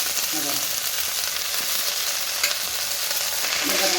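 Onions sautéing in a pan for drumstick leaf poriyal, with a steady, loud sizzle and crackle and occasional stirring scrapes throughout, no talking.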